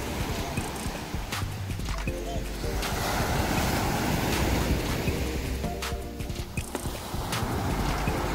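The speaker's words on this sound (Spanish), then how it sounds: "como pueden ver, este es el mar de Palomino" Sea waves at Palomino beach in La Guajira roar steadily and loudly throughout, a continuous wash of surf with wind noise and brief clattering knocks mixed in.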